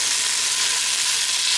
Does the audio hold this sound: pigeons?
no